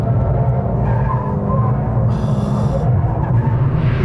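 A sports car engine roars loud and close, holding high revs through a turn, with a brief hiss of tyre noise partway through.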